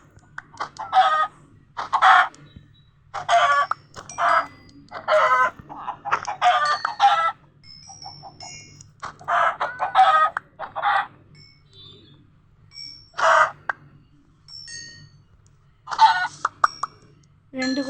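Chickens in the video game Minecraft cluck in scattered short bursts, close and clear, with quiet gaps and small popping sounds between the calls.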